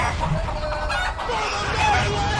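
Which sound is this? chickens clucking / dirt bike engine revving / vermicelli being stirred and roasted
chickens clucking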